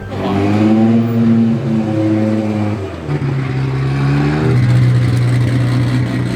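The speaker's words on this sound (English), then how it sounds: "by putting a stainless system on it, definitely tries to make it the loudest car it can be" A car revs hard through a loud stainless steel exhaust, its engine note rising, dipping briefly around the midpoint, then climbing again in a strong, sustained nearby roar with no speech.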